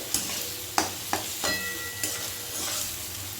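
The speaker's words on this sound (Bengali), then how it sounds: "সমস্ত কিছুকে কিন্তু খুব ভালো করে মিশিয়ে নিতে হবে" Ground spices, turmeric, cumin and a small tomato are stirred together in a hot pan, with several distinct spoon scrapes and taps over a low, steady sizzle.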